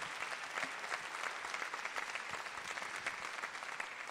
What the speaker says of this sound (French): On peut applaudir très fort Mélanie et puis les jeunes qui sont présents évidemment derrière.